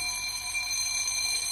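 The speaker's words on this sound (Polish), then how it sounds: "Ten dzwonek." A bell rings in the Pony Live video game, a bright sustained metallic tone shimmering steadily with high overtones and no talk over it.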